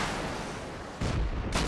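An incendiary rocket fired at a wooden tower in Rust: steady rushing roar followed by two sharp, loud blasts close by near the end.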